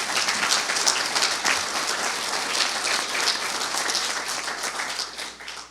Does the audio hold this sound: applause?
yes